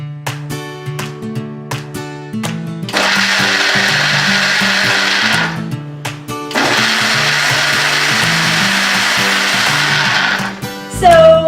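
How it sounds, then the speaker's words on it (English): Kitchen blender pulsing sugar-free dessert mousse ingredients: two loud sustained whirring bursts separated by short pauses, with clunks and motor start-stop sounds around them, no talking. "I just put everything together, blended it, just pulsed it for a few seconds."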